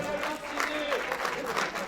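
An audience at a French public talk with a rapper applauds, brisk clapping from many hands, fairly quiet, mixed with voices and a brief tonal sound over it.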